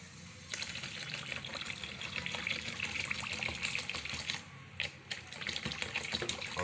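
Water poured steadily into a cosmetic cream mixture, roughly half a litre, a continuous close splashing, gurgling flow with a few brief dips near the end.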